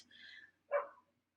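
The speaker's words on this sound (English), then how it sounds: "it's a dog across the street." A dog barks once from across the street, a short muffled bark following a fainter sound, heard at a distance in a quiet room.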